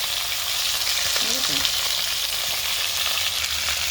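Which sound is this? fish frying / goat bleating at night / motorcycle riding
fish frying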